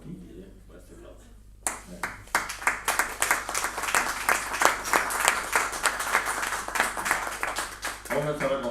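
Audience applause for the author at a book presentation, starting abruptly after a quiet voice and swelling into steady, lively clapping from a sizable crowd that continues for several seconds before a voice returns.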